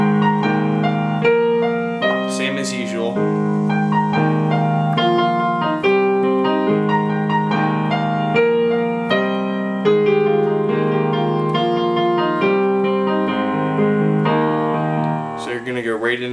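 Piano playing the last chorus of a song, chords and melody moving steadily for about sixteen seconds at moderate loudness, with a brief spoken voice over the playing.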